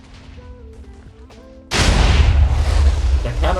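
TNT blasts from a Minecraft Java 1.19.2 sand-stacking machine (a 70+ chunk AG 384 stacker): a sudden, loud, sustained roar of continuous explosions sets in after a quieter stretch of mechanical clicking and ticking.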